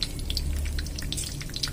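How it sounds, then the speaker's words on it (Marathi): Oil heating in a kadhai already used for frying, during a Marathi dry brinjal sabzi recipe, giving a faint, continuous crackle and sizzle with scattered pops across the short stretch. "फ्राय केलेल्या कढईमध्येच आपण तेल टाकलेलं आहे."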